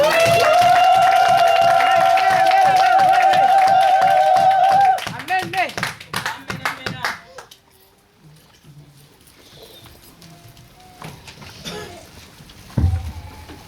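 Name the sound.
church congregation applauding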